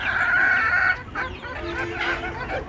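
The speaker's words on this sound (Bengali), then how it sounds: "এই যে দেখেন আমার দেশি মুরগি এখানে বড় ছোট মিলাইয়া প্রায় একশোর মতো হবে" Native deshi chickens in a flock of about a hundred cluck and squawk loudly up close, a sustained call followed by overlapping softer clucks.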